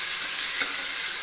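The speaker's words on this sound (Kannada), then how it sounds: "ಚೆನ್ನಾಗಿ ಫ್ರೈ ಮಾಡ್ಕೊತಾ ಇದ್ದೀವಿ ಎಣ್ಣೆಲಿ ಈರುಳ್ಳಿನ" Onions frying in about three teaspoons of hot cooking oil make a bright, dense hiss, loud and close, with one faint stirring bump midway.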